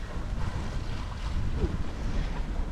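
Steady broadband wind rush and low rumble aboard a sailboat offshore in light 6 to 7 knot breeze on a calm morning between the Azores and Madeira, constant and close to the microphone, with water wash beneath and no voices.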